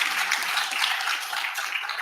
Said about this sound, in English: Please, a round of applause for Kayla.